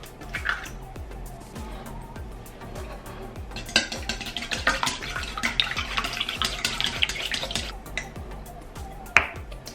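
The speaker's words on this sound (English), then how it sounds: "Crack 3 eggs." Three eggs are cracked for an Okinawan bitter melon stir fry, giving sharp shell taps and wet drips, close and fairly clear against quiet kitchen background.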